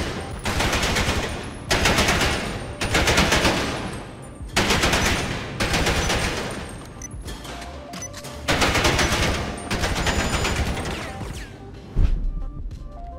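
Assault rifle burst fire at targets in GTA Online: loud, close bursts of rapid shots in repeated clusters separated by short pauses, with clinks and mechanical clatter between.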